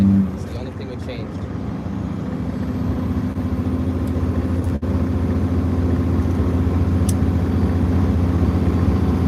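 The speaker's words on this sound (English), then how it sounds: "You hear the difference now of the exhaust, and I didn't do nothing but add an exhaust tip." A Kenworth semi truck with a newly added exhaust tip drones on the road, a steady low engine rumble with a faint hum, loud and constant for the whole stretch.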